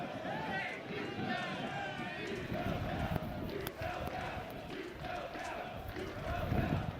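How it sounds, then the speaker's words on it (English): A hockey arena crowd chants in unison, the roar dense and continuous with rhythmic swells, while a play-by-play commentator talks over it. "the chant is "You fell down," implying that Quinn Finer just happened to trip"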